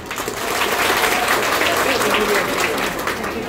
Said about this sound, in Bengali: তাদের উদ্দেশ্যে আমরা জোরে একটা করতালি দিই।